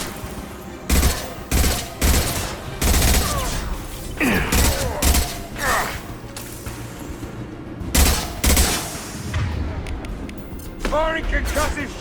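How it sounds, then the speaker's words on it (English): Combat in Mass Effect with a concussive shot going off among rapid weapon fire, a dense run of heavy blasts and bursts with whooshing, sweeping effects, while voices speak over the fighting. "Firing concussive shot!"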